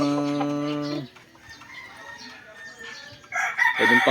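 A two-year-old Super Sweater line gamecock rooster crows loudly and close, one long harmonic call followed by a quieter pause with faint background noise, then a burst of clucking or commotion at the end.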